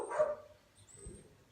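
Neighbours' Staffordshire bull terriers give one short, distant bark at the start, followed by a faint, quiet background with a soft muffled thump.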